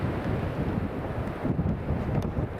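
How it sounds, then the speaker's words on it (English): Strong crosswind gusting to 35 knots at Newcastle International Airport, a loud continuous roar buffeting the microphone with rumbling low gusts and no voices. "Wind is currently gusting 35 knots"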